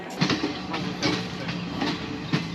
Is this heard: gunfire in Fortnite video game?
no